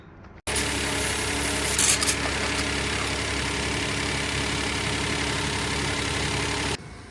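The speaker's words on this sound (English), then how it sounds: "I'm gonna show you what it looks like when you start the car with the pump" A 2015–2021 Kia Sedona engine starts with a burst and settles into a steady, loud idle, a power steering fluid pump running during the job, with a brief rise early on before it cuts off.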